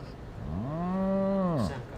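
A person imitates a cow, giving one long drawn-out moo that rises, holds steady and falls away over about a second, loud and close with no other sound.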